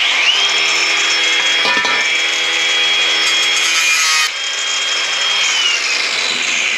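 Power tool slicing through the rusty sheet-metal cab corner of a 1953 GMC truck, a loud, steady high-pitched cutting whine running continuously with a brief dip midway and a slight pitch change near the end.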